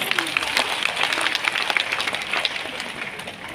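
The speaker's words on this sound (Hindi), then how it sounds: "आम करताली दे धन्यवाद अर्पण करवा" An audience claps in thanks to the district administration at a Lakhpati Didi district workshop in Jharsuguda. Steady, dense clapping runs throughout at moderate loudness, tapering slightly near the end.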